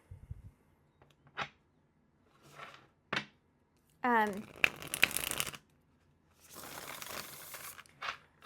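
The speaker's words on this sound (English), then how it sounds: "I just want to shuffle while I'm talking about them" A tarot card deck is shuffled in bursts of crisp riffling and papery flutters, separated by quiet gaps, close and fairly soft.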